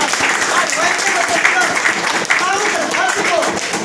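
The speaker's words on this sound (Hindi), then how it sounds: "इनके लिए जोरदार की एक बार ताली भी होना चाहिए" Audience at a gathering clapping loudly for leaders; steady crowd applause fills the clip, with voices audible over it.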